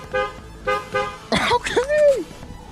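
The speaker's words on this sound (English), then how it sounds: "we're gonna go honk the horn, see if it sounds any better" Speech is followed by a short burst of noise and then a single honk from a newly replaced car horn on a 2011 Ford Fusion, fairly close, swelling briefly before it cuts off.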